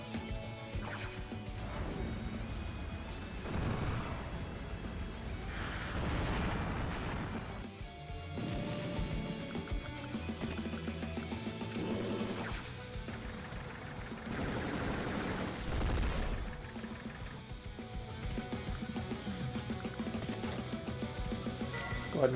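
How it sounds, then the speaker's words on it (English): Anti-air missile units in Advance Wars: Days of Ruin fire at a bomber, producing a loud, continuous barrage of crashing blasts and rapid gunfire-like bursts that rise and fall over game music. "we pulled the bomber into range of the anti-air missiles, which truly have incredible range"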